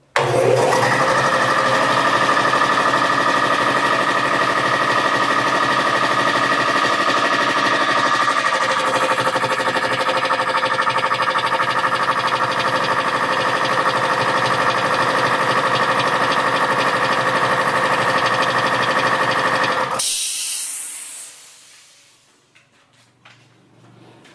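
A new 5-horsepower air compressor motor starts up and runs with a loud, steady mechanical hum and drone for about twenty seconds, then cuts off abruptly and fades out.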